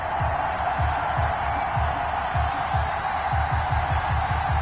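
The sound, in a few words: stadium crowd cheering before Vikings vs Seahawks NFL game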